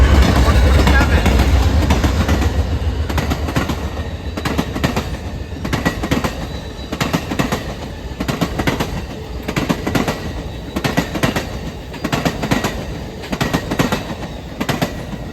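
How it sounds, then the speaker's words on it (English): Amtrak California Zephyr passenger train led by P42DC locomotives passes close by, loud engine rumble fading into steady clickety-clack of wheels over rail joints and rolling cars. "Amtrak California Zephyr train 5. That's your train to Emeryville. And P42DC's leading this one off."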